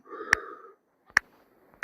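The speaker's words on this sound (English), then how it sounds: "I'm sniffing a lot because I've got a cold." Three sharp, short sniffs spaced apart, close up, the first over a brief breathy exhale.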